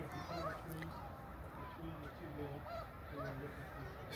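A huge flock of snow geese migrating at Middle Creek Wildlife Refuge, countless overlapping honks forming a dense, continuous distant chorus with fainter voices beneath.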